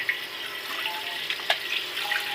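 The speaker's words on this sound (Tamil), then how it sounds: "சும்மா லைட்டாக தான் இது கழுவணும்" Mutton spleen rinsed lightly under running tap water in a kitchen, with a soft, steady splashing stream and small clinks, fairly faint and close, with no talk.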